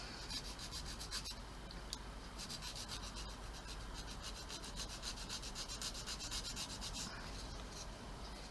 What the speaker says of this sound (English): this needs sanding as well.